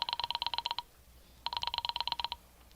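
An old telephone rings in two rapid trilling bursts with a short gap between, clear and fairly close in a quiet room.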